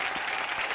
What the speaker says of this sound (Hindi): एक बार शान और राधिका के लिए जोरदार तालियां।